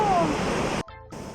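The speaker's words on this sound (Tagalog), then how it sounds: "Ang lakas ng alon." Loud rushing surf with a wash of water noise, cut off abruptly near the end before resuming briefly.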